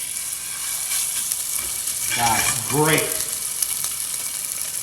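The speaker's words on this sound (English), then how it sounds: "Get that in, you wanna hear a good sizzle." Haddock fillet laid into a hot pan on high heat for a golden crust, giving a steady frying sizzle with a brief swell as it goes in, close and moderately loud, with a short spoken remark over it.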